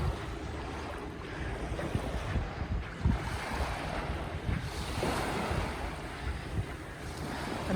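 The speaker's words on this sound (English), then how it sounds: "the constant soothing sound of the sea washing against the sand" Steady wash of sea surf against sand at Nelson Bay with wind noise across the microphone, a continuous rolling roar with gentle surges, no voices.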